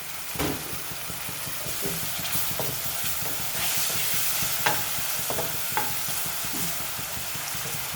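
Garlic paste fries in a pan with coral fish, a dense continuous sizzle close by, with scattered clicks and scrapes from stirring.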